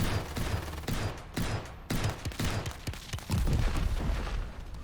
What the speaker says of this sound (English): it's launching those rockets at me